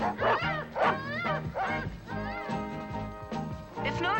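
Two excited pet dogs meant to be sled dogs bark, yip and whimper continuously and close up, with rising and falling whines between the barks.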